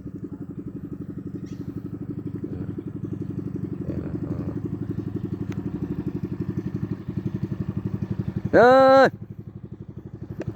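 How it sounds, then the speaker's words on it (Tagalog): A motor boat passes on a river with a steady, close, rhythmic engine chug, and a person lets out one brief loud shout near the end. "May bangka, may bangka."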